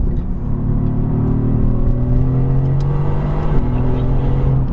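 A tuned 2018 Mercedes-AMG GT R in sport plus mode drones steadily from inside the cabin, its engine note a loud, continuous low rumble that dips and rises briefly near the end as it shifts, with no talking.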